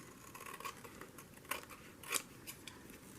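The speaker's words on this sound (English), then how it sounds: "I'm going to trim that off." Scissors trimming overlapping paper on a handmade mini collage journal, a few soft, close snips at irregular intervals, very quiet with no talking.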